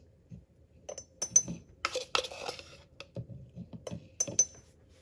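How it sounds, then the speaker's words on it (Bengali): Homemade haleem spice mix goes into a jar with scattered clinks and taps of a spoon and utensils against glass and metal, brief rustling pours between, close in a quiet kitchen with no talk. "আমি এখন এটাকে একটা জারে ঢেলে নিচ্ছি।"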